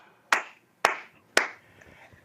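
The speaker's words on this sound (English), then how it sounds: "what the fuck were these people there clapping for?" An audience at a political event claps in three distinct, sharp bursts spaced about half a second apart, each fading quickly, heard clearly with no speech.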